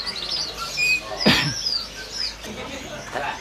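At the Pramuka bird market, parrots give scattered high chirps and whistles at moderate distance, with one sharp burst of squawking, over a murmur of background activity.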